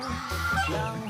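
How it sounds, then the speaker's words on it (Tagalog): Young goslings and ducklings crowd in during a backyard feeding, with a brief burst of close, nasal honking and squawking calls overlapping one another. "nagpapakain ng mga sisiw na gansa at"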